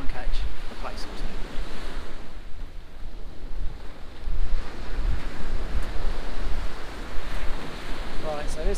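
Waves wash onto Shoreham Beach, a shingle shore, in a constant, loud surf roar mixed with gusting wind buffeting the microphone.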